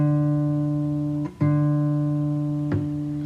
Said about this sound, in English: My tuner.